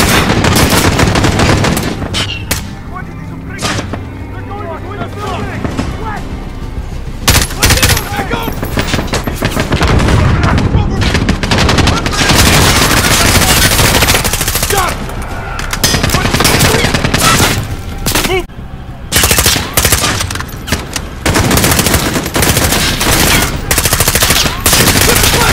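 Heavy automatic machine gun fire in Call of Duty: Modern Warfare, played on Realism difficulty on PS4, with long dense bursts, explosions and loud battlefield chaos throughout and brief lulls; voices shout briefly under the gunfire.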